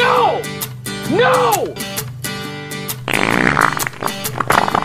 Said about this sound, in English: Thought I farted, but I shit.